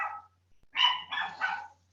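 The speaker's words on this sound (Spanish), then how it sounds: "Disculpen por el ladrido de mi mascotita" A small pet dog indoors gives a short yip, then a burst of three loud, sharp barks in quick succession, clear and alone without speech.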